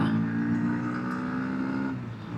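A Bajaj Pulsar NS160 motorcycle engine hums steadily while riding on tarmac, a moderately loud, even drone that eases slightly toward the end.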